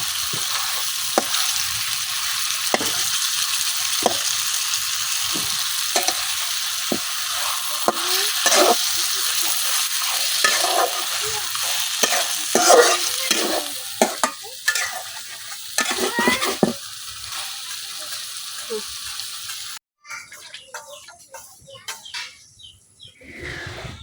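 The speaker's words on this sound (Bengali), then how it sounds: "মাছের মাথাটা খুব ভালোভাবে কষায় নেন।" Fish heads fry and are stirred hard in a pan in a village kitchen, with a continuous loud sizzle and rhythmic scraping strokes, birds chirping faintly in the background, and a quieter stretch at the end.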